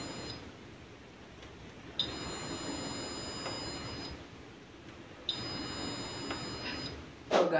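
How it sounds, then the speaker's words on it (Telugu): A battery-powered door safety alarm buzzer with a weak battery sounds when the door opens, giving a sustained high-pitched electronic tone that cuts off and restarts, over a faint background hiss. "ఎప్పుడైతే నేను డోర్ తెరుస్తానో చూడండి బజర్ అయితే బీప్ అవుతుంది"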